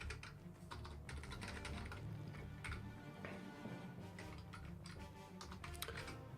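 Computer keyboard typing in short irregular bursts of clicky keystrokes, close and steady over a low background hum, with no talking.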